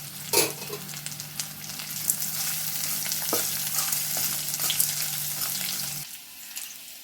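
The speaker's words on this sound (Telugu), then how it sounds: "ఉల్లిపాయలు కొంచెం వేగినాయండి" Onions fry in a pan for a mint and coriander chutney, a continuous close sizzle with crackles that cuts off abruptly, leaving a quieter tail.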